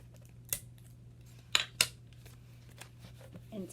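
Tape is pulled in a few short, sharp bursts while making a macaroni maraca, quiet and close over a steady low hum, with faint rustling between the pulls.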